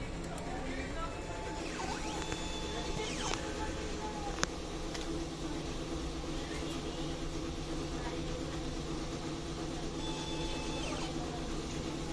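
A DTF transfer printer runs a head-cleaning cycle, its steady mechanical hum and whir continuing throughout with occasional rising motor sweeps and a brief click, while a voice speaks faintly in the background.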